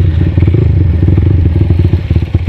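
A Honda Tiger 250cc motorcycle engine with unadjusted valves idles close by, its steady, loud pulsing rhythm carrying a busy mechanical clatter and ticking throughout.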